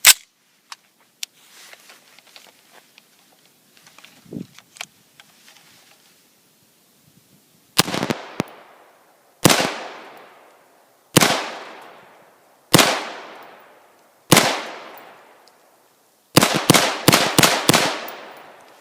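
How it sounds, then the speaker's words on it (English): Single AR-15 rifle shots from a Stag Arms Model 1L fed by a 40-round E-Lander magazine, loud sharp reports spaced a couple of seconds apart, ending in a rapid burst of about five shots close together. "This is a basic feeding test of the E-Lander 40 round AR-15 magazine I received the other day"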